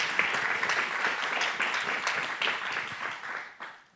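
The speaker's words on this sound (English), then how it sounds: "Another round of applause, please." Steady round of audience applause at a climate action panel discussion, moderately loud and continuous, tapering off toward the end.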